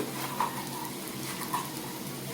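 Eggplant fritters (beguni) fry in hot oil, giving a steady dense sizzle with brief bubbling swells, close and continuous with no talk.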